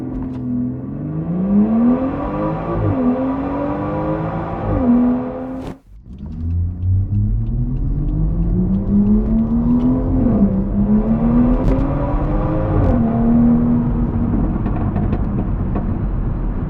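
A BMW 440i Gran Coupe with 355 horsepower and xDrive accelerates hard, its engine climbing loud and close through the revs. A brief gearshift dip comes midway, then it pulls again steadily with no talk.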